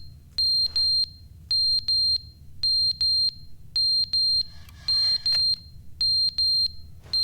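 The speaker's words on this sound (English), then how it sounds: "Oh my god, the fire alarm." A fire alarm rings in The Stanley Parable video game, loud high electronic beeps in steady groups of three repeating throughout over a low background rumble.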